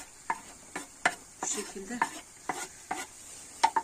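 Goose fat melting in a hot pan, a soft steady sizzle broken by regular scraping strokes as it is stirred, with a brief word spoken once.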